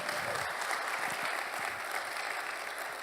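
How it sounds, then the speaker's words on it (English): A crowd claps steadily and loudly, a dense wash of applause that holds at an even level throughout. "Let's give her a round of applause."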